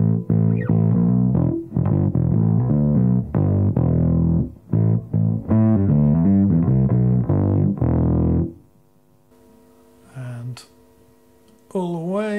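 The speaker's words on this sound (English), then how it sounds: "If I crank the distortion" Bass guitar through an MXR M85 Bass Distortion pedal with the distortion turned all the way up, played loud in a run of choppy, gritty notes that stop abruptly, leaving a low hum and a few faint scrapes.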